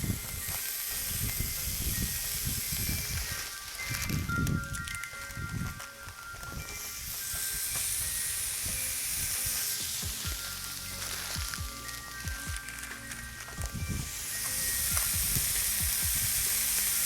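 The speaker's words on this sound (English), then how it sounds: "let's go ahead and get our burgers on. We are gonna go 2 minutes per side on these" Wagyu burger patties frying on a Blackstone griddle, a loud steady sizzle with crackling pops and occasional scraping from a spatula.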